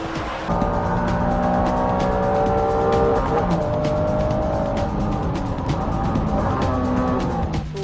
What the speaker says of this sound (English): Next in front is the 400 pony American monster, the Dodge Viper.